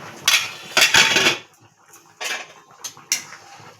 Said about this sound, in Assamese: এতিয়া মই আঞ্জাখিনি লাৰি চাম কেনেকুৱা হৈছে।